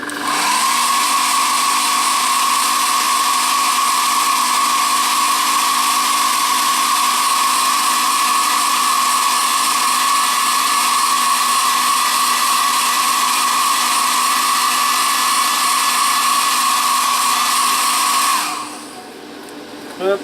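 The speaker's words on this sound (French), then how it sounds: "un petit coup de sèche-cheveux" A hair dryer blows steadily at close range with a constant high whine over a Mini Cooper model being assembled, then switches off near the end.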